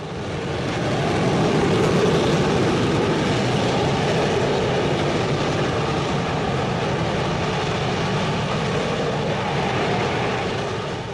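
A steam blow at a coal-fired power plant: a loud, continuous broadband roar of venting steam, sustained and unbroken, with no voices.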